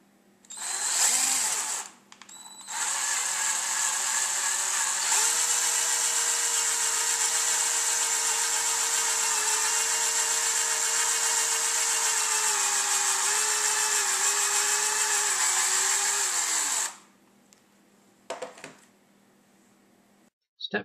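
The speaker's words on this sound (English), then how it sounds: "Drill a hole in the cork the same size as the rigid tube." A power drill bores a hole through a cork sized for a rigid tube, a steady whining drone running loud and unbroken for about fifteen seconds before cutting off, with brief rattles around it.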